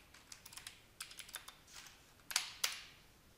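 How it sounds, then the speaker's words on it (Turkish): Keys clatter on a computer keyboard in quick, uneven bursts of close, soft clicks, ending with two louder taps, typed into a Google search with no talk. "Şimdi Google'a girelim. Buraya Windows 10 yazalım."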